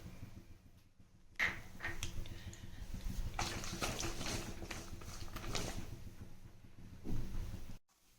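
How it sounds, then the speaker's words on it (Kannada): Peanuts fry in about four spoons of hot oil with mustard seeds for chivda, giving a steady close sizzle and crackle that carries on throughout, with a few clinks and stirring sounds. "ಈಗ ನೋಡಿ, ಶೇಂಗಾ ಚೆನ್ನಾಗಿ ಫ್ರೈ ಆಗ್ತಾ ಇದೆ."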